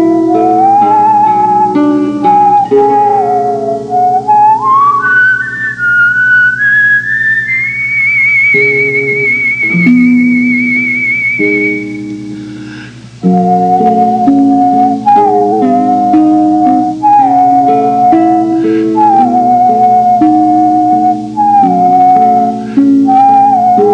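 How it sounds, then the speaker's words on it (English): Someone whistles a tune up close: steady held notes, a long rising glide, then a short repeating phrase. No talking. "I whistle a few notes or a few bars."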